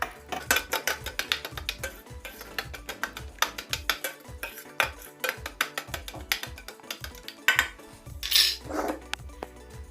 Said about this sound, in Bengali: আমি একটি ডাবুই করে ভালো করে ঠেসে নিচ্ছি।